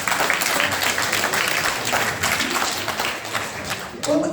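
An audience at a town hall meeting with a US representative breaks into sustained applause, a dense, continuous wash of many hands clapping that fills the room throughout, with some crowd noise mixed in.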